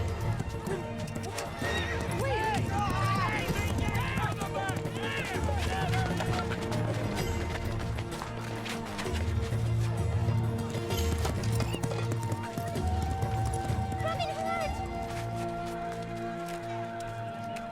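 Horses clip-clop and gallop through a busy medieval market, hooves drumming steadily under shouting voices and loud neighs, with a crash and bustling crowd noise mixed in.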